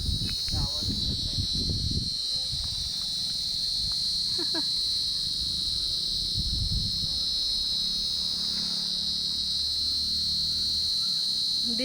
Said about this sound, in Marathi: अजून किडे असतील का पक्षी आहेत? नाही, किडे आहेत.